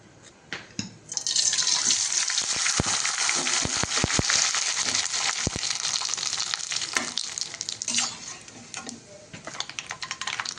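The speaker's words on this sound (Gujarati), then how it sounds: "તો ચાલો હવે હું તમને આ પાપડ તળ્યા બાદ કેવા બને છે ને તે બતાવી દઉં." Loud, steady sizzling of sago papad frying in hot oil, with a burst of crackling that swells after a quiet start and scattered sharp clicks throughout.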